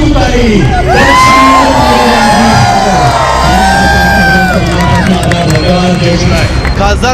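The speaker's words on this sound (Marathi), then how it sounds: "उपस्थित कार्यकर्त्यांच्या टाळ्या आणि शिट्ट्यांमध्ये मोठा राजकीय अर्थ" Party workers at a political rally cheer, whoop and yell in a loud, dense crowd roar that holds steady throughout, with shouting voices rising over the din.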